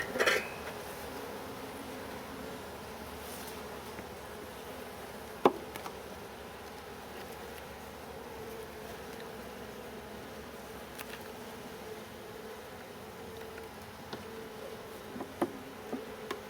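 Honeybees buzz steadily around an open nuc hive at an apiary, a continuous droning hum close by, punctuated by a few faint clicks and knocks of hive equipment.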